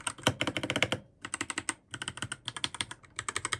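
Close, crisp typing on an RK61 60% wireless mechanical keyboard with brown switches, bursts of rapid clacky keystrokes separated by short pauses, alone with no voices.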